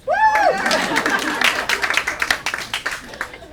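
At an outdoor forest preserve ceremony, a brief vocal whoop rises first, then a small crowd breaks into scattered, uneven clapping with distinct individual hand strikes, moderately close and fading in and out.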